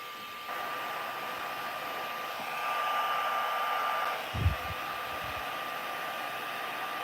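A heat tool blows a steady stream of hot air to melt powder, heating it from underneath. A continuous, fairly loud whooshing hum runs throughout, with a brief low knock near the end.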